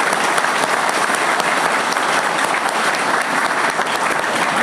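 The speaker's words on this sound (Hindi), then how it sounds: "तो मैं चाहूंगा कि एक बार अपने लिए वास्तव में हृदय से एक बार ताली बजा के" Loud, sustained applause from an audience at a one-day CSC workshop in Banka, a thick, continuous wash of many hands clapping at close range with no talking over it.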